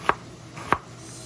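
A knife cuts Brussels sprouts into thin slices: two crisp, close chops on a board, well spaced, with quiet room tone between and no talking.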